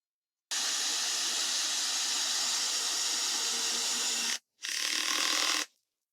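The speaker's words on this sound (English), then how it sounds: "I set the torque ring to position 5, and we'll see right away how it performs when driving the screw." A Bosch GSR 12V-15 drill-driver set to speed 1 and torque position 5 drives a 4 mm PZ2 screw. It whirs loudly and steadily for about four seconds, stops briefly, then gives a second short burst before stopping.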